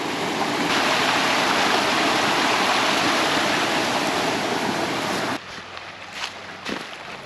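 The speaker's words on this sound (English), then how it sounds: "can't go wrong with the sound of water." Steady rushing water fills the scene, a broad continuous wash that cuts off abruptly near the end, leaving quieter ambient noise.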